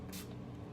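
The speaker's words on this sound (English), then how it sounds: "So I'm just going to spray it just a little bit," Setting spray misted onto a makeup sponge in one short, close hiss that fades quickly into a quiet room.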